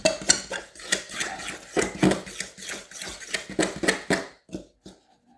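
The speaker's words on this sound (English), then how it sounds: "So mix that roughly" Butter and sugar mixed roughly by hand in a bowl for no-bake cookies, a busy run of quick scraping clatters of a utensil against the bowl, close and steady before stopping near the end.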